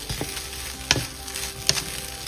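Chira poha, flattened rice, sizzles steadily as it fries in a pan, with a few sharp scrapes of stirring cutting through the close, even crackle.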